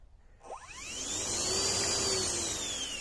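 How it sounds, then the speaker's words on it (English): An electric ducted fan at the front of an RC flying wing spins up from silence, a rising whine that climbs sharply in pitch and then holds as a loud, steady high-pitched rushing whir. "So for the EDF, I've had it set up on this switch here."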